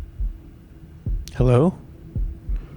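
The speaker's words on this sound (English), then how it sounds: "I think that's a heartbeat." Low heartbeat thumps in the video game Shadow of the Tomb Raider, soft single pulses spaced about a second apart, with a person speaking briefly in the middle.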